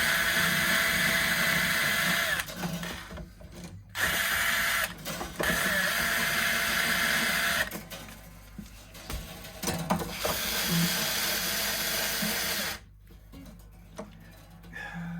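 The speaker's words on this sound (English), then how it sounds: "let's get the mechanical unwinder" A motorized mechanical string unwinder working on an acoustic guitar during a setup, whirring in loud bursts of a few seconds separated by short pauses, close up with a faint background hiss.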